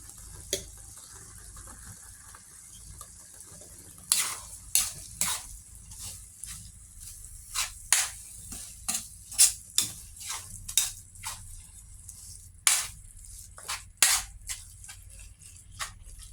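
Shrimp paste (alamang) sautéing in a pan, giving scattered sharp pops and spits from the bubbling paste over a low steady background, with no talk.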